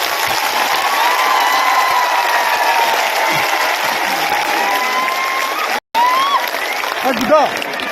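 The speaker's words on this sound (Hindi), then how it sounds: "सबसे बड़ा ताली आपको होना चाहिए।" A large outdoor crowd applauds and cheers at a political victory celebration marking a signed accord, loud sustained clapping with whistles and shouts, briefly cut off near the end before resuming.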